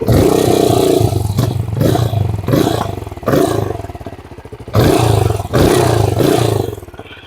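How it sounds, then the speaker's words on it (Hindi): QJ Motor SRC 500 motorcycle exhaust, loud and close, rising in a series of about five throttle blips that bark and fall back to a throbbing idle between them. "अगर हम इसका एग्जॉस्ट नोट सुनते हैं पहले"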